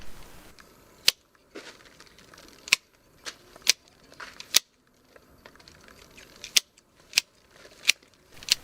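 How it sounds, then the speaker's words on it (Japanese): Sharp, crisp snips of pruning shears cutting back thick Leyland cypress hedge branches, about ten distinct cuts spaced irregularly at close range, with quiet rustling between them and no talk. "少し太めの枝を輪郭の内側に切り戻していきます"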